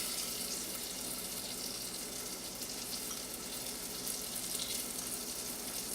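Onions sweating in butter in a pan give a steady, soft sizzle, a continuous broadband hiss that holds even throughout with no talking.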